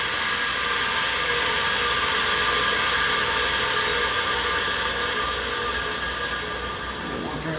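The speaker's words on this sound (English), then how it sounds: "just take the grinder and see if I can get a bevel on that" An angle grinder beveling the edge of a metal header panel in a car body repair, a loud, steady, continuous whine and hiss held close up with no talk.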